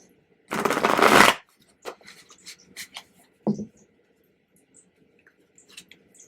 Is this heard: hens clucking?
no